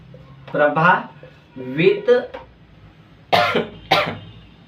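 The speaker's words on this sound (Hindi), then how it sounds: "थोड़ी खांसी हो गई है" A person coughs several times in short bursts, close up, with brief pauses between the coughs.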